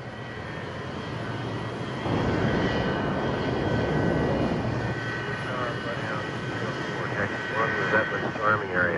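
Grumman F-14 Tomcat jet engines roar steadily on the ground at a naval air station, a loud continuous rumble that swells after a couple of seconds, with someone talking over it.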